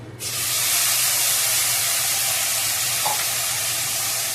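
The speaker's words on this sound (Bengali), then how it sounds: "দেখলেন মশলার থেকে তেল ছেড়ে দিয়েছে, মশলাটা ফ্রাই হয়ে গেছে।" Spice paste of tomato, onion, green chilli, garlic and ginger sizzling in hot oil in a pan, a loud, steady frying hiss that starts abruptly and continues evenly throughout.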